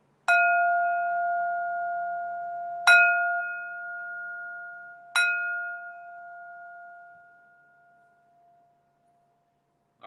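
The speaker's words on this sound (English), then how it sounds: "All right, third bell." Three separate strikes of a meditation bell, each a clear ringing tone that decays slowly, the last one trailing off over several seconds in a quiet room with no talk.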